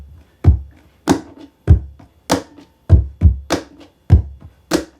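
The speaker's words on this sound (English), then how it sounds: "you can actually get some nice thud into that kick" A series of deep, punchy thuds struck on the body of an acoustic guitar fitted with a clip-on pickup, about ten hits in a loose rhythm, close and fairly loud.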